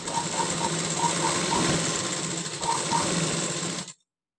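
A sewing machine stitches lining fabric in a steady, fast mechanical whir with a faint rhythmic ticking, running continuously and close for about four seconds before stopping abruptly.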